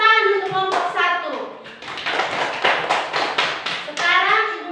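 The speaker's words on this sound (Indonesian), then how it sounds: "Kita beri tepuk tangan untuk kelompok 1." Schoolchildren in a classroom clap together for a group, with a rapid run of rhythmic claps after a teacher's voice and children's voices mixed in.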